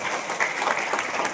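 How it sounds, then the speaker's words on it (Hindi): Audience applause at a Guru Puja program, a short burst of dense clapping from a gathered crowd, steady and moderately loud. "तो एक बार पवन जी के लिए जोरदार तालियां"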